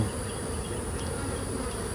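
A large colony of honey bees fills the air with a dense, continuous buzzing hum, steady and close, without voices.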